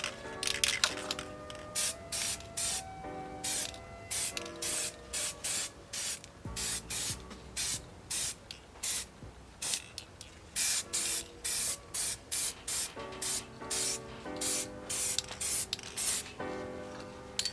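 Repeated short bursts of spray paint laying a second gloss black coat on Ford Fiesta ST MK6 car parts, close and loud, each hiss a second or so long with brief gaps between, no talking.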